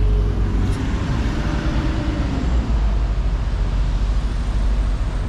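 Steady car traffic near roadworks at Shinkyo Bridge in Nikko, a continuous broadband rumble of passing vehicles with low engine drone, fairly close and unbroken, no voices.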